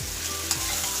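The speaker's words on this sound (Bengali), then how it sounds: "আলু পটলটা একটু ভালো করে কষিয়ে নিই আলুটা আগে" Potatoes stirred and sautéed in a hot pan for a potato and pointed gourd curry, with a steady close sizzle and scraping stir noises throughout, no talking.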